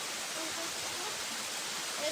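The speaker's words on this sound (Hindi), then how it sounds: "और कौन सा जंगल में ये झरना है?" Waterfall in Dalma forest, a steady broadband rush of falling water filling the scene at close range with no pauses.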